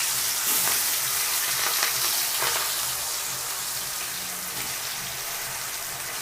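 Raw soaked chicken pieces dropped into hot oil, a loud steady hiss and crackle of frying close by, easing slightly after the first few seconds.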